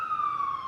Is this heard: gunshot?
no